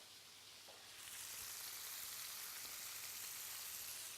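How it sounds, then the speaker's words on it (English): Venison sears in a hot pan with an intense, close, steady sizzle that swells suddenly after a quieter second and then holds as a dense hiss. "That's always a good sign when we get that lovely, intense, sizzling sound."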